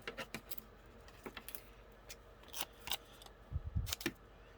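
Scissors snipping a paper label for a scale model bottle, a series of short crisp cuts and clicks, close and fairly quiet, with no talk.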